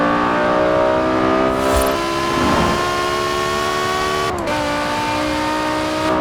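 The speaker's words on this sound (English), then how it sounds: "That noise from the V10 engine is so good." A BMW M5 E60 with its 5-liter V10, driven in Forza Horizon 4, revs with a loud, sustained high-pitched wail, the pitch climbing and shifting through gear changes, with a brief dip partway before the note holds on steadily.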